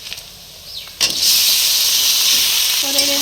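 Meat hits a hot pan of onion and garlic for a chicken curry, bursting into a loud, steady close sizzle after a few soft knocks, with faint background voices.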